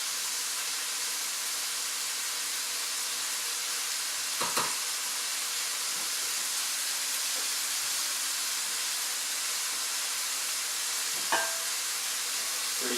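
Garlic sizzling in oil in a pan while cooking curry, a steady bright hiss throughout with a couple of brief clinks from stirring, close and continuous.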